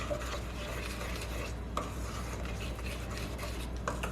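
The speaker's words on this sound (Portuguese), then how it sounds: "E vou misturar com uma colher." A spoon stirs cornmeal batter in a mug, giving a steady close scraping and rubbing with a few light clinks against the mug's side.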